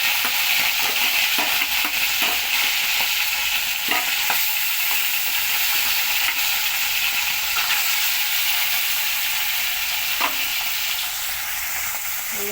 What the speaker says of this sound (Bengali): এই দেখো মাছ ভাজছি।